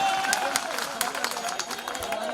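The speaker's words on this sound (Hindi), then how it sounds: "जरा जोरदार तालियों से उनका स्वागत करें आप" A crowd at a Madhya Pradesh Congress welcome rally claps and cheers in a dense, sustained burst of applause, with a general hubbub of voices mixed in.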